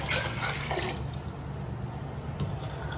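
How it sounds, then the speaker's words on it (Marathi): Water runs steadily into a cooking pot on a gas stove, a continuous pouring splash that is loud at first and then settles into a softer, even gurgle. "इथे आपण पाणी गरम करायला ठेवू"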